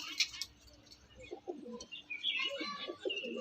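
Andhra pigeons in a home loft give soft, low cooing calls in short repeated phrases, moderately close, with faint chirps and background noise between them.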